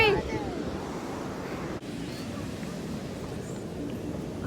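Ocean waves and wind at a beach make a continuous broadband roar, with buffeting wind noise on the microphone and a brief dip partway through.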